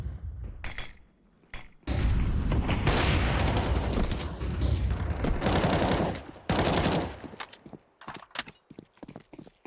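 Gunfire rattles through a Counter-Strike tournament round, with sustained loud rifle bursts in two long stretches and scattered single sharp shots between them, close and dense, with no voices over it.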